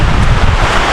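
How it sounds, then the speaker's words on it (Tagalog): Strong typhoon wind during Typhoon Pepito roars across the microphone in a dense, loud, broadband rush that stays unbroken and close throughout. "Grabe yung hangin, no?"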